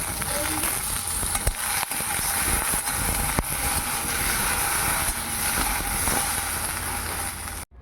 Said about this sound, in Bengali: ভেন্ডিগুলো ভেজে নেওয়া হয়ে গেল